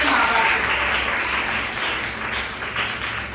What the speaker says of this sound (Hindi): तालियां बजाएं अपने लिए सब अपने माँ बाप